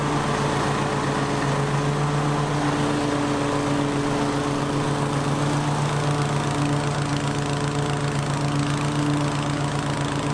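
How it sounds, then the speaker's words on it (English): A Toro TimeMaster walk-behind lawn mower runs steadily while mowing a yard, its engine producing a loud, close, constant hum with a strong low drone and no talking. "Just by pushing down on the handle, the mower should match that pace."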